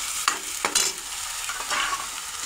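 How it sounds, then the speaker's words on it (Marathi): Raw ground masala paste for chole frying in hot oil, a soft sizzle broken by scraping stirs of a spoon against the pan, close and moderately loud. "ती कच्चं वाटण असतं ना मग ते तेलात चांगलं लाल परतवून घ्यायचं"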